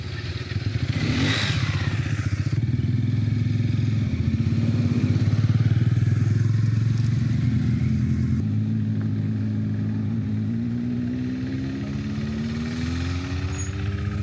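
Adventure motorcycles ride an off-road dirt track near Hyderabad, a continuous loud engine drone with shifting pitch as the riders accelerate and ease off, plus scattered clatter and thumps from the rough ground and no voices.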